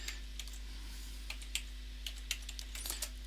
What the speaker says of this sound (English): let's start here and we're going to type in